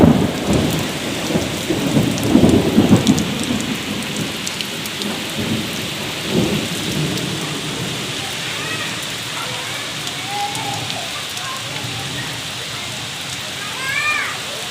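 Heavy rain pours steadily while strong wind gusts, with a deep rumble of thunder early on. Someone talks over the downpour near the start, and a few bird chirps come through later.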